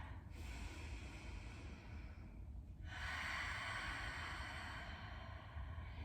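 Slow, deep yoga breathing close to the ear, a long airy exhale followed by a fuller, louder breath drawn steadily, with no talking.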